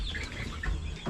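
Chickens and a pair of roosters on a homestead give a few brief clucks and calls, nearby over a steady background of outdoor noise.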